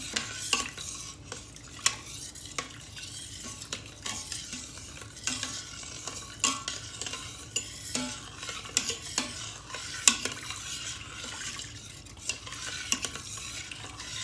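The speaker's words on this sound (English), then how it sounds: "scraping the bottom of the pan to get those bits of garlic and flour and seasoning off the bottom" Garlic, flour and seasoning stirred in a pan for smothered beef tips, with repeated close scrapes and taps of a utensil against the pan bottom over a low, steady sizzle, no voices.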